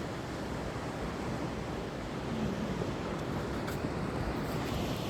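Sea waves wash along the shore in an even, hissing surf with a soft low rumble, steady and fairly faint, mixed with light wind noise and no talk.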